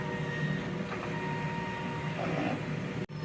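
A DTF printer running a print-head cleaning cycle: a steady mechanical hum with faint tonal whines and a brief pump-like whir, then a sudden short drop near the end.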